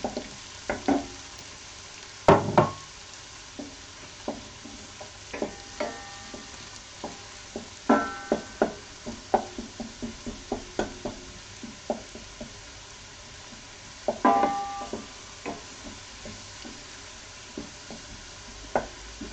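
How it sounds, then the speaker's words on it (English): Chopped leeks frying and softening in a pan, a soft steady sizzle broken by repeated sharp knocks and scrapes of a utensil stirring, some clustered and louder, with no talking. "And then add the leek and soften that up a bit"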